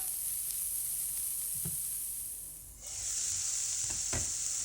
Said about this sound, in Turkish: Soğan ve sarımsak yumuşayıncaya kadar birkaç dakika pişireceğim.